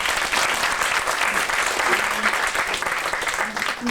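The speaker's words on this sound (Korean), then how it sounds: "박수 한번 쳐드릴게요" Audience applause at a 1995 E-Land intern overseas-training presentation event, a steady, full burst of many hands clapping for about four seconds, loud and continuous.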